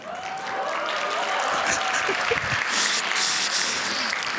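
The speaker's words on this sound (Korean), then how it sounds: "왜 박수를 치시죠?" A church congregation at a Friday prayer service breaks into steady applause, a dense wash of clapping that swells and holds for several seconds, with scattered voices mixed in.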